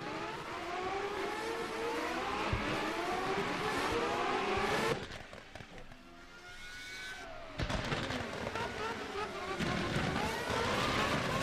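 A race car runs the Canadian Grand Prix circuit at Circuit Gilles Villeneuve after losing its front wing, its engine note rising and falling in sustained whines, with a brief dip midway before it screams back up.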